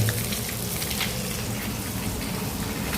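Fish pieces frying in thick masala give off a steady, even sizzle with soft crackles throughout, close and moderately quiet, with no talk.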